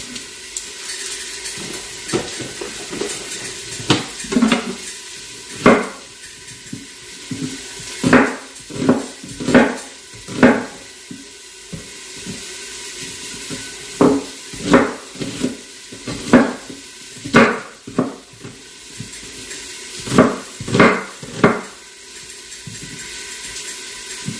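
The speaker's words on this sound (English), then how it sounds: "we're almost done cutting the onions" A knife cutting onions: spaced, irregular thuds of the blade striking the board, fairly close, over a faint steady background tone.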